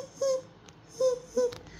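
A voice imitates a kitten's mewing for a Playmobil toy film, three short, thin, high mews spaced across a quiet background.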